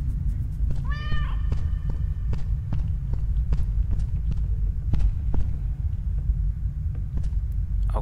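Cat meowing in The Stairway 7 video game, a single short meow early on over a low steady hum with soft rhythmic thumps like footsteps.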